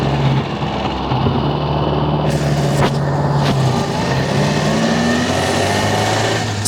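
A 1929 Austin 7 Chummy running while being driven, its small engine giving a steady close drone with a shifting low hum, loud and continuous, with a couple of brief knocks partway through and no speech.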